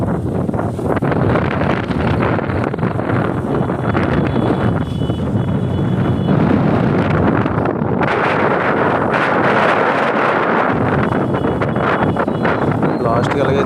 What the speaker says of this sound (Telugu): గాలి మట్టికి చాలా స్పీడ్గా వస్తుంది.